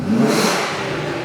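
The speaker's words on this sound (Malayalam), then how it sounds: "നമ്മളിപ്പോൾ ആദ്യം വാൾട്രോണിക് എക്സോസ്റ്റ് ഓഫ് ചെയ്ത് വെച്ചിട്ടുള്ള സൗണ്ടാണ് നമ്മളിപ്പോൾ കേൾക്കാൻ" Nissan 350Z engine giving a short rev with its valvetronic exhaust closed, a muted, brief rise in engine note heard close by with no talking.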